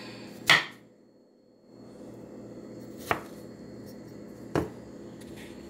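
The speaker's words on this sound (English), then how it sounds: "Cut how small or how big you want to" Three sharp knife chops into fresh strawberries on a cutting board for a mango, strawberry and spinach salad, well spaced and close, over a low steady background hum.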